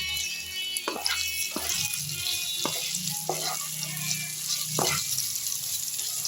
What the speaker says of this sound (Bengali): আলুর এই যে কেটে রাখা ডুমো করে রাখা আলুগুলো এর মধ্যে দিয়ে লাল লাল করে ভেজে নেব